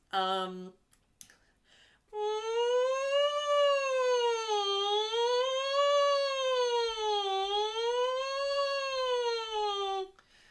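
A voice imitates an ambulance siren, holding a wavering wail that rises and falls steadily for about eight seconds after a brief vocal lead-in.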